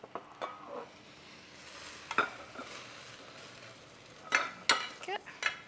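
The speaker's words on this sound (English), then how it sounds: "Sizzle, sizzle, smells delicious." Chicken enchilada filling of chicken, crème fraîche, lime, coriander and spring onion, sizzling faintly in a pan while a utensil scrapes and taps against it in short bursts.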